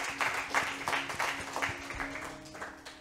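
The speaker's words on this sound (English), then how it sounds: "Give the Lord a hand clap right there." A church congregation claps hands together in a brief burst of steady, overlapping applause that fills the room.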